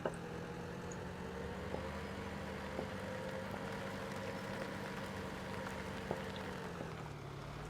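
A tractor engine in Farming Simulator 17 idles in a steady low drone, with a few faint clicks over it and no talk.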